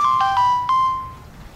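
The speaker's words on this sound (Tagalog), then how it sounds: "Si Dave ba yung nag-text sa'yo?" A mobile phone text message notification plays a short melodic run of bright electronic tones that ends in a sustained note and fades, loud and clear with no talk.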